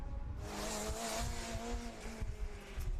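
A Formula SAE race car at an endurance event zips past with a high, whining engine note that swells and fades within a few seconds, fairly close over outdoor background noise.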